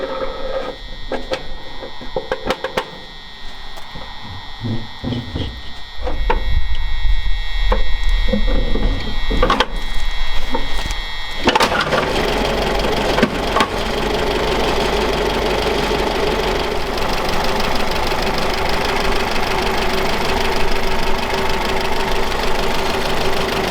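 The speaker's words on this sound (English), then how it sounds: "Insert the handle and get to cranking." UAZ 469 engine hand-cranked with the choke on, rough mechanical turning and clatter for several seconds before it catches and settles into a steady, loud, knocking idle that runs on alone.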